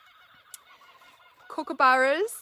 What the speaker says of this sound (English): in Australia, we've got the native kookaburra. That's the laugh. Kookaburra's laughing.